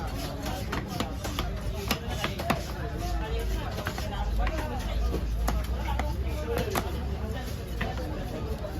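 A knife chopping fresh fish at a busy fish market, with repeated sharp thuds on a cutting board close by, under constant crowd babble and people talking nearby.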